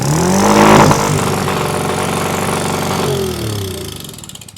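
A small mini bike engine fires up and runs hard with the throttle held wide open, a loud, close, raspy buzzing drone that surges at first and then settles into a steady high-pitched roar with no talk.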